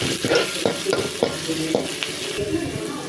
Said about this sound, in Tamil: இப்போ ஆனியன் போட்டுக்கலாம் இப்போ நல்லா இதை வதக்கிக்கலாம்